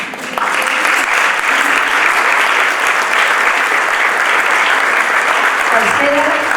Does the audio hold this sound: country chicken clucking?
no